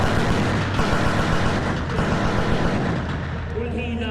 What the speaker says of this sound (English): Demonstrates individual fire, and then he's going to show us what automatic fire looks like.